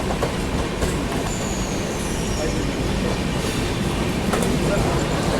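A Mumbai local train rolls past close by near Mahalaxmi station, steady loud rumble with wheel clatter and a thin high squeal drifting over it; no talking.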